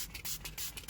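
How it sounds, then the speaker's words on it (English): Angel Wax cleaner is sprayed onto the leather interior of a Porsche Panamera Hybrid in a few quick, faint, hissy trigger spurts. "So we're going to give it a light spray"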